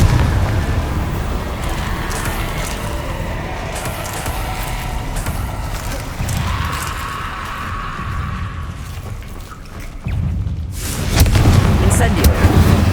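Spell-casting blasts and fiery bursts in the video game Hogwarts Legacy, a run of booming explosions and whooshes over continuous game ambience, with shouted incantations mixed in.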